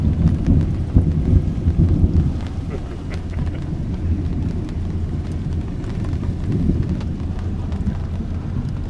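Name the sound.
rumble of thunder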